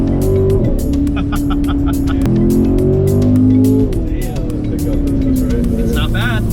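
A C7 Corvette Stingray with an eight-speed gearbox pulls hard in fourth gear, its engine a loud, rising drone heard from inside the cabin, with excited voices talking over it.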